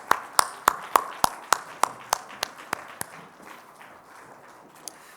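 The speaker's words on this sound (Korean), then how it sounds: "우리 다시 한번 격려의 박수, 은혜의 박수 함께 해주시겠어요?" A church congregation claps in a slow, even rhythm of about a dozen sharp, evenly spaced claps that grow softer, then trail off into quiet room murmur.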